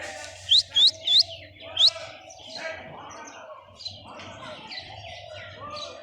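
Birds at Chittagong zoo give four quick, sharp, high chirps in the first two seconds, followed by fainter scattered calls over a low background murmur of the zoo grounds.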